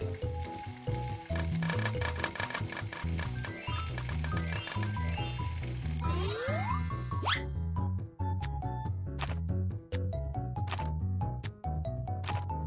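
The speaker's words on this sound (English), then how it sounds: "It's time to fry the dough sticks." Dough sticks fry in a pan in a cartoon cooking game for kids, a bright sizzle carried over playful tinkling music, with cartoonish sliding effects partway through and no voices.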